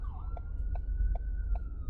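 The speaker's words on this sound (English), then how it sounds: "Oh, that's the ambulance coming from there." An ambulance siren heard from inside a car in traffic, a steady wailing tone with rhythmic yelp pulses repeating about every 0.4 seconds over low road rumble.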